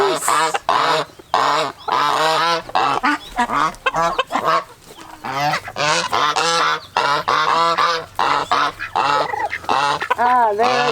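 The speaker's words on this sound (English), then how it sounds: "Ah, there I got a goose." Geese honk loudly and almost continuously at close range during feeding in a farmyard with turkeys, the calls overlapping in rapid bursts with only short pauses between them.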